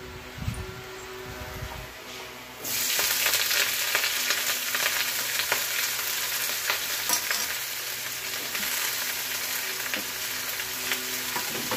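Washed kharkol leaves drop into hot oil with lightly fried garlic, setting off a loud, steady sizzle after a quieter opening, with faint stirring rustles throughout.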